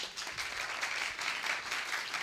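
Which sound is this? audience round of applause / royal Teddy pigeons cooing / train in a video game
audience round of applause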